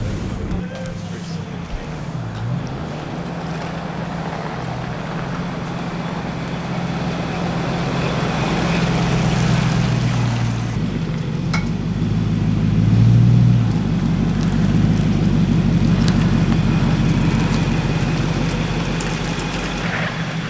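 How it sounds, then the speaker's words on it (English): A car engine with an aftermarket AVO cat-back exhaust runs with a steady, deep exhaust rumble that swells briefly, lasting throughout with little variation in tone. "And this is the new exhaust."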